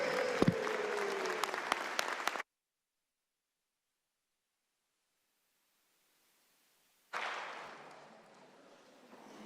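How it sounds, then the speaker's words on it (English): Audience applause in the West Virginia House of Delegates chamber, a short burst of clapping that cuts off to silence and then resumes fading toward the end. "A big round of applause,"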